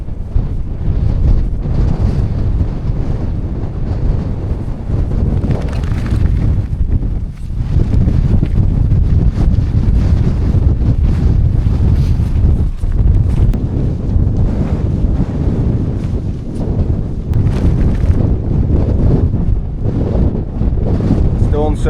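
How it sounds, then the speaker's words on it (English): Strong wind buffets the microphone on an open hillside in the Yorkshire Dales, a loud continuous roar with gusting swells throughout and no clear speech. "It's a tad breezy still."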